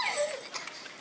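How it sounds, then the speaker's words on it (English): A dog gives a brief high whimper or yip on a Cambodian street, a single short whining call that fades within a second, fairly close and alone. "Hello, dog."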